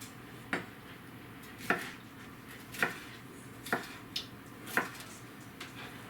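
A very sharp kitchen knife trimming the ends off a vegetable for chili beans, giving several sharp, evenly spaced cuts against a board over a steady room hum.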